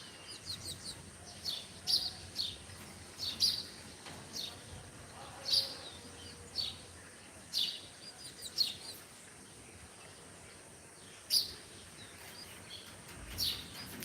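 Sparrows and other birds chirp in the early morning near a quiet railway line by a bus terminal, with scattered short bright calls repeating every second or two at moderate distance over a soft ambient background.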